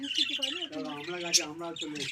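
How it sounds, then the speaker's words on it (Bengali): Pet birds in a home chirp and tweet in quick, bright bursts throughout, mixed in with people's voices talking nearby. "কত পাখি পুষেছে দেখ দাদা, কত পাখি পুষেছে"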